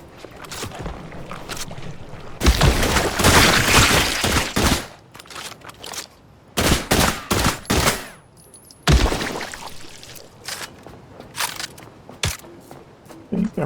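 A pistol-style shotgun fires repeatedly in The Last Caretaker, loud blasts arriving in irregular clusters with quiet gaps between them, close and punchy.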